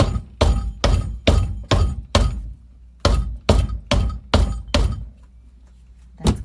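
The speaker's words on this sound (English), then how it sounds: "Okay, I'm going to bang it down." A container of freshly poured cold process soap is banged down hard on a surface about a dozen times in quick bursts, each a sharp, heavy thunk with a short rattle, close and loud, followed by a brief pause.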